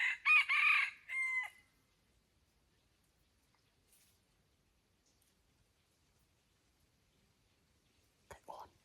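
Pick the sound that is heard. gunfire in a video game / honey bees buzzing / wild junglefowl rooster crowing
wild junglefowl rooster crowing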